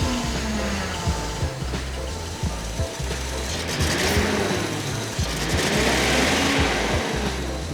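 A Datsun 280Z engine idles steadily after repairs, including a new silicone intake coupler replacing a leaky factory boot, its low rumble continuous and close with faint mechanical ticking and no talking.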